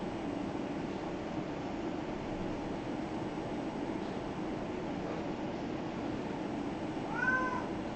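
A single short cat meow near the end, faint and distant over a steady hiss of background noise.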